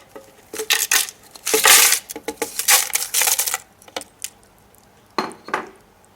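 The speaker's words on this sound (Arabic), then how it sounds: "هحط التلج." Ice cubes dropped into a blender jar for a diet Lotus biscuit milkshake, a run of sharp clattering knocks in bursts, close and fairly loud, with a brief final burst after a pause.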